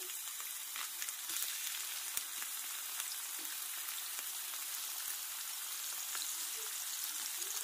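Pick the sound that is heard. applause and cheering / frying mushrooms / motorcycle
frying mushrooms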